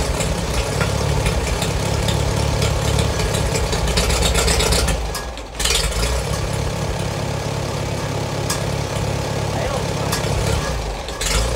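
A small engine idles steadily after its throttle linkage and carburetor have been adjusted, a continuous loud, even running tone that holds throughout with a brief dip midway.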